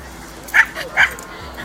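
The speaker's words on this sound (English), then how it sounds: "This little dog wants his frisbee." A little dog wanting its frisbee gives two sharp, close yelping barks with whiny edges, separated by a short pause.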